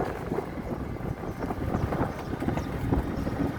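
Steady wind rushes and buffets against the microphone, a rough continuous roar with gusty swells throughout.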